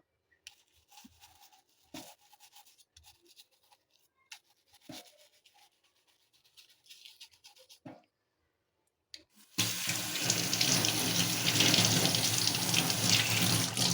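Crabs are cleaned by hand with scattered faint rubbing and clicking, then a kitchen tap opens and water runs loudly and steadily into the sink, close and without talk.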